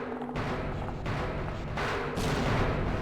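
Grenades exploding in the original Half-Life video game, a string of three or four heavy booming blasts in quick succession, loud and close, with rumble between them.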